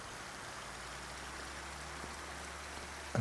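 A waterfall in the Farming Simulator 25 video game pours in a constant, soft broadband rush, even and unbroken throughout, with a small bump right at the end.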